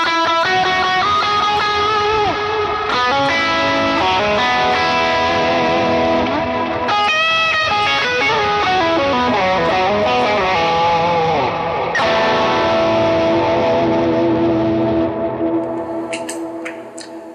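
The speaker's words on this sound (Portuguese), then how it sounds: "Até quando eu coloco mais drive e delay," Electric guitar played through a pedalboard with overdrive and delay, loud and sustained chords and melodic lines ringing with echoing repeats, continuous for the whole stretch and fading slightly at the end, with no talking.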